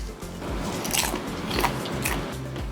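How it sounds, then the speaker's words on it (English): Close, steady crunching of ramen noodle popcorn being chewed, with repeated crisp bites and grinding mastication heard alone without talking. "The ramen noodles add this amazing crunch to it."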